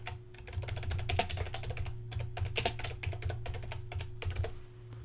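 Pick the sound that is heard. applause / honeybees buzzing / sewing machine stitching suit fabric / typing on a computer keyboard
typing on a computer keyboard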